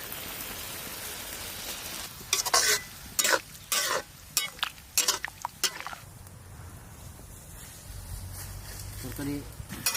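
Fish curry gravy of magur and jiol fish with garlic tempering and thankuni leaves bubbling in a pot, a steady simmering hiss with loud stirring clatters and scrapes in the middle stretch, and a voice speaking briefly.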